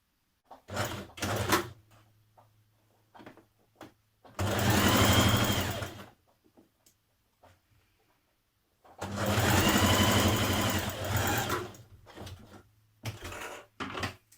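A domestic sewing machine joins the shoulder seams of a Simplicity 1461 tunic in two loud, sustained runs of about two and three seconds, separated by quiet handling clicks and fabric shuffling.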